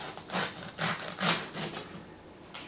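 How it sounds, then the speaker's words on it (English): Knife slicing through microwaved corn husks on a cutting board, a series of close, crisp rasping cuts in short bursts, fairly quiet with no talk. "Now I'm going to lay this on the cutting board. Be sure to cut all of the husks."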